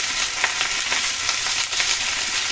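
Chopped cabbage, small-cut potatoes and green chillies sizzle and crackle steadily while frying in a pan, a dense, continuous hiss close by with no talking.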